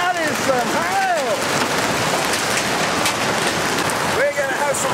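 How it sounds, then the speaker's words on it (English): Hail pelts down hard in a freak storm, a dense, loud, continuous hiss and clatter of ice on surfaces, with voices talking excitedly over the din. "That is some real hail."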